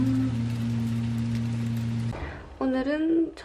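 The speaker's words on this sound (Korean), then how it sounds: "우박이 막 쏟아지고 있어서" Hail falling hard on Jeju Island, a dense steady patter that stays constant throughout, with a low steady hum under it and a brief voice near the end.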